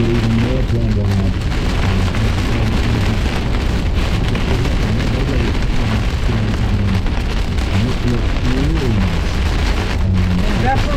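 Hail and heavy rain drumming steadily on a car windshield during an intense severe thunderstorm in Iowa County, Wisconsin, a loud constant pelting wash with a low rumble underneath and a voice talking over it.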